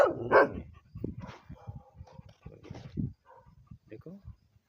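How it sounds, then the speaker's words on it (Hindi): Dogs bark and yip in short bursts near a homestay or resort, the calls mixed in with people talking nearby. "अभी भौंक रहे थे"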